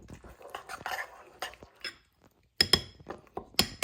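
A utensil stirs cornmeal porridge with milk in a pot, making irregular close scrapes and sharp clinks against the sides that come in bursts with short pauses between them.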